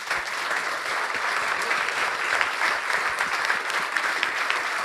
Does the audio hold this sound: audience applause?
yes